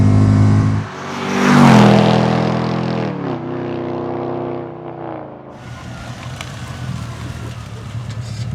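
A Mercedes B-Class with a swapped, more powerful engine accelerates hard, its engine note rising loudly in pitch, easing back, then settling into a steady drone under passing road noise.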